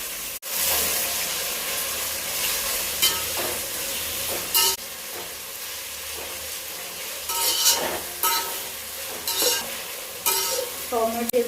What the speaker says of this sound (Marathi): टोमॅटो चांगलं सुटेपर्यंत मसाला आपण चांगला एकत्र भाजून घेणार आहोत.